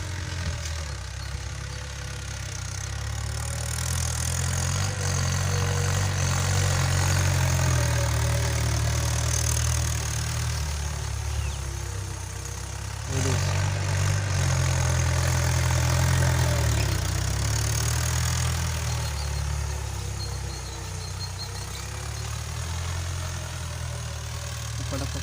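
A tractor plowing a paddy field runs its engine in a steady, loud low rumble for the whole stretch, rising and easing slightly as it works, close by with no clear talking.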